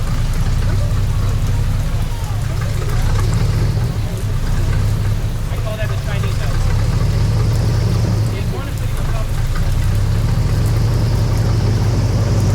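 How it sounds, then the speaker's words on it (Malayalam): A propeller-driven tour boat speeds across a swampy waterway in America, giving a loud, steady engine roar and rushing wind and water noise that hold at close range throughout. "ഞങ്ങൾ സഞ്ചരിക്കുന്ന ബോട്ട് അങ്ങനെ മുൻപോട്ട് കുതിച്ചു പായുകയാണ്"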